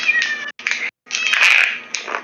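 A cat meows loudly in a string of drawn-out, strained cries with brief pauses between them, close and alone with no talk.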